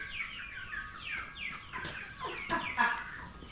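Chickens on a farm cluck and chatter in overlapping calls, several birds at moderate distance, soft and continuous with a few louder squawks near the end.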